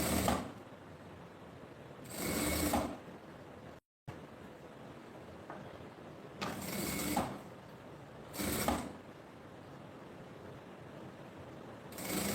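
Short bursts of a sewing machine stitching a zippered pouch bag, four separate runs of quick rhythmic needle clatter with quiet pauses between, close and moderately loud.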